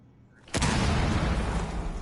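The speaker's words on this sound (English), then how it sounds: "Oh, they hear an explosion." Sudden explosion in the tactical shooter Rainbow Six Siege, a sharp blast onset followed by a sustained broad roar of debris and rumble, moderately loud and heard alone.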